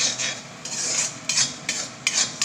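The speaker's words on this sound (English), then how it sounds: "You need to constantly stir it" A spoon or spatula scrapes and stirs potatoes with turmeric in a pan, making a repeated rasping sound in short strokes, close and fairly loud.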